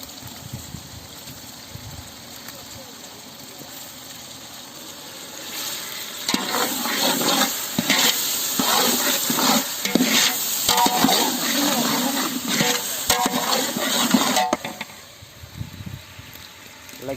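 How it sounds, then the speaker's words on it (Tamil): Onions are sautéed in hot oil and stirred with a ladle for black chicken (Kadaknath) biryani, a steady sizzle punctuated by scraping, clattering stirring strokes that grow busier in the middle, close up with no one speaking. "வெங்காயம் நல்லா வதங்கிடுச்சு எண்ணெயிலே போட்டு நல்லா வதக்காச்சு"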